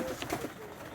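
A pigeon coos softly at a pigeon loft, a brief low murmur set against faint background noise.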